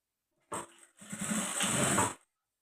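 Sewing machine stitching a blouse, a short quiet whirring run after an initial brief burst, close and alone with no talk.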